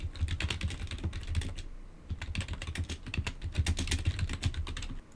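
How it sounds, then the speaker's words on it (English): Rapid keystrokes on a computer keyboard in a bursty, uneven rhythm with brief pauses, close and clear with no talking, as a task description is typed into a Visio BPMN diagram. "And now it allows me just to start typing what the task is going to be about."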